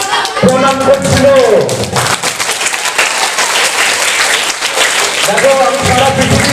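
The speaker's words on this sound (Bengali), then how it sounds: "আকাশের জন্য একটা অ্যাডেড হাততালি কেন বলো তো?" Students and guests at Jyotirmoy Public School give a student an extra round of clapping, a sustained crowd patter that swells and carries on while someone speaks over it at the start and end.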